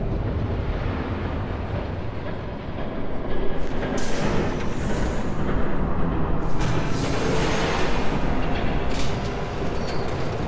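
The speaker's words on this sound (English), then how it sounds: "There's a train coming." In Batman: The Telltale Series, a train rushes past with a heavy, continuous rumble and roar that swells louder midway, carrying gusty wind-like noise and no voices.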